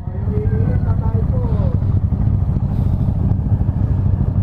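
A procession of sixteen motorcycles on the Peñafrancia ride in Naga City rumbles past with a continuous engine drone and occasional revving, under nearby voices talking.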